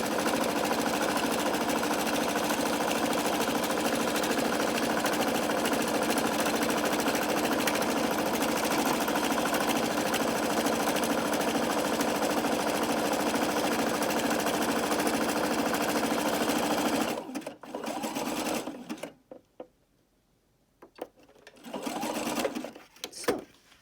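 A sewing machine runs a zigzag stitch along a fabric edge, a loud steady rapid mechanical hum for most of the stretch, then stopping and starting in short bursts near the end.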